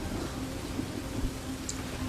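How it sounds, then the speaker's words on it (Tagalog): Heavy rain pours steadily outside during a storm, a dense continuous wash with faint low rumbling beneath, fairly close and without voices. "Grabe, ang lakas naman ng ulan sa labas."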